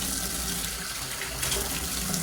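Hot water gushing steadily from a Moen shower faucet in a bathtub, a continuous close splashing rush with no talking.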